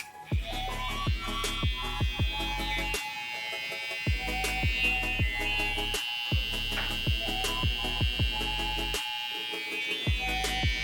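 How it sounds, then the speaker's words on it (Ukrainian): An electric hair trimmer for a men's haircut buzzes steadily with a bright mains-like hum, broken by repeated sharp clicks and brief dropouts, close and fairly loud with no talk. "Включаємо тример."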